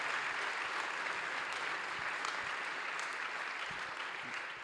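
Steady applause from an audience, a dense wash of many hands clapping at moderate volume, holding evenly for the whole stretch with no talk over it.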